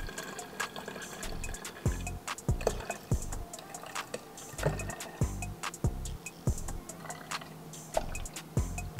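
Vanilla almond milk creamer is poured into a glass of STOK black cold brew coffee. Soft trickling liquid is broken by a series of small ticks and drips, fairly close, with no one speaking.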